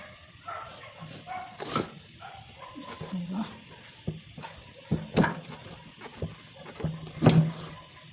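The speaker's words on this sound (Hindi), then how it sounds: "पीछे आपको आवाज़ें आ रही होंगी डॉगीज़ की" Dogs barking and yipping in the background, intermittent and somewhat distant, under someone talking and kitchen clatter while making sesame tandoori naan.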